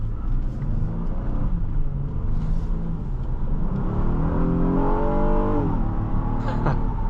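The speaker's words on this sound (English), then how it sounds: "That V6 sounds so good." A 2023 Honda Odyssey Elite's V6 engine hums and rises in pitch as it revs up while driving, with a steady road rumble underneath.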